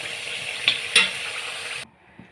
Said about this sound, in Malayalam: ചെറു തീയിൽ നമ്മുടെ എണ്ണ ആയിക്കൊണ്ടേയിരിക്കുന്നു